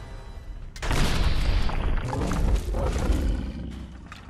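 A Gauss rifle fired at a legendary Deathclaw in a Fallout game, a sudden heavy boom followed by a sustained roaring, rumbling burst that slowly fades, with no talking.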